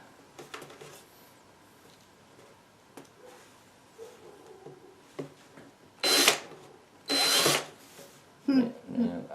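A power drill drives self-drilling screws into dryer vent pipe, with two loud whirring bursts near the middle and a shorter one at the end, set between quiet handling clicks and taps.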